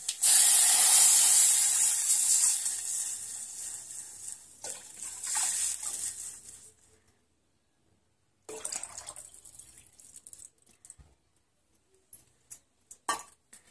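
Buttermilk and turmeric are poured into hot oil with golden garlic for a quick Maharashtrian kadhi, bringing a loud, close sizzling hiss that fades over several seconds. Faint clinks and spoon stirring follow after a brief silence.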